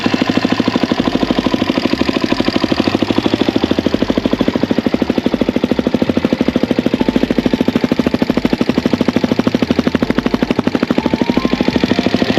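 A Suzuki LTZ400 ATV engine with Stage 2 hot cams idles steadily and loudly up close, a continuous rapid chugging throb with a slightly lumpy, uneven rhythm that carries on alone throughout.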